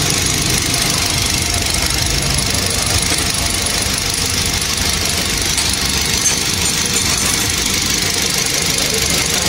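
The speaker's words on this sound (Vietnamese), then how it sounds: "Thế là cái tiếng máy nổ cũng rất là êm à." A car engine with VVT-i idles steadily after its cam gear and sludge-clogged internals were cleaned, giving a loud, close, continuous running hum with a faint ticking rhythm and no talk.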